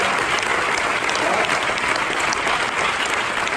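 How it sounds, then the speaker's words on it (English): Summer camp audience giving the leaders a big round of applause, a loud, continuous crowd of clapping hands that holds steady from start to finish. "Let's have a big applause for all the leaders that came here to see the fantastic faces"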